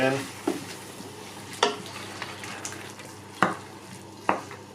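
Diced lean beef steak in a stew pan sizzles steadily while red wine goes in, with a few sharp clinks and scrapes of stirring at intervals and light talk underneath.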